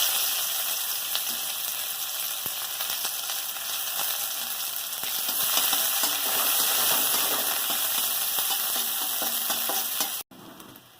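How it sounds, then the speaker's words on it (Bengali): A whole onion and a chili fry in hot mustard oil in a wok, giving a loud, continuous sizzle that swells slightly midway before cutting off abruptly near the end, with no talking. "পেঁয়াজটা ভাজা হয়ে গেছে।"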